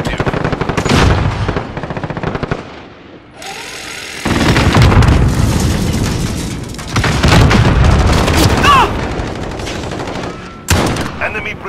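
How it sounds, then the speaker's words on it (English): Airstrike explosions in Call of Duty: Modern Warfare, with loud sustained booms and rattling gunfire filling the clip and a brief lull before the blasts resume and roll on. "Enemy precision airstrike."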